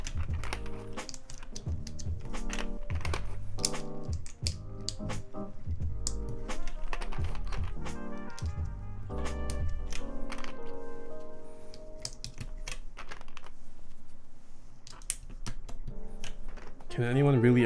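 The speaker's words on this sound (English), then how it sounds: "let's see. Let us put on the keycaps." Keycaps are pressed onto a custom mechanical keyboard, producing a long series of irregular plastic clicks and taps at close range, with some low thumps and voices talking in the background.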